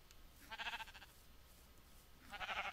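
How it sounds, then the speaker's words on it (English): Sheep bleating in a video game, two clear bleats a couple of seconds apart, moderately loud over a soft ambient game background. "Excuse you, sheep."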